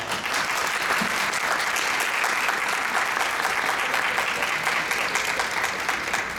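An audience gives sustained, dense applause to welcome a Samsung display division executive to the stage for a smart TV and 3D TV presentation. The clapping is loud and even throughout, with no speech over it.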